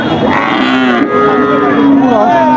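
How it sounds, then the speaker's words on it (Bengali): Dairy cow with a bull calf at the Chougachha cattle market in Jashore, giving a loud, close, drawn-out moo that wavers for about two seconds over busy market background. "প্রয়াত জাতের গাবি শুনতে পেলেন দর্শক এই যে প্রয়াত জাতের গাবি সাথে ষাড় বাচ্চা"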